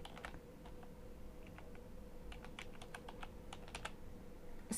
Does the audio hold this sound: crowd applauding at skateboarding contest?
no